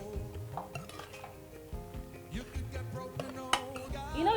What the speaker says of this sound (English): So when you finish stirring it